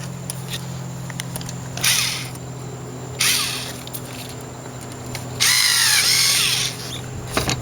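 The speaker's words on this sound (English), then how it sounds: "Take your screwdriver and secure it down." A power screwdriver drives a hose clamp tight on a short ram air intake for a Monte Carlo SS, whirring in three separate bursts, the last one longest, with no talking.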